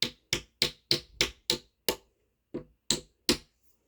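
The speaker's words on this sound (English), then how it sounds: "if it's too tight, you can use a hammer gently on it" A hammer gently taps a wooden dowel into a bookcase panel: about ten sharp, close knocks in a quick, slightly uneven rhythm with a short pause near the end, no talking.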